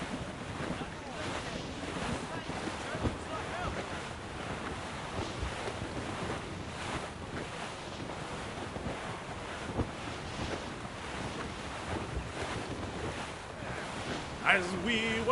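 A sailing ship at sea in Assassin's Creed Rogue, with a steady wash of waves and wind roaring around the hull for the whole stretch, broad and continuous, with a louder gust near the end.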